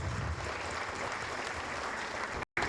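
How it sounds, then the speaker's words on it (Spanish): At a technical and commercial presentation session, the audience breaks into sustained applause, a dense and even wash of clapping that runs throughout, with one brief dropout near the end. "Un fuerte aplauso, por favor."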